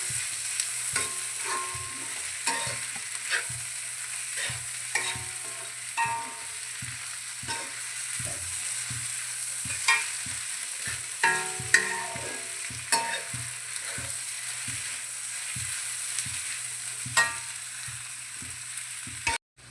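Stirring and sizzling in a pan as ginger-garlic paste sautés for Kerala-style pork fry, with steady frying hiss and repeated scraping stir strokes throughout, no talking.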